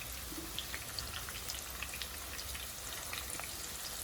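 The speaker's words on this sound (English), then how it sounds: "once you add this after the oil is heated, it will straight away very quickly start to get fried" Chicken pieces fry in hot oil for Chicken 65, a soft, steady sizzle with faint scattered pops and crackles, quiet and continuous.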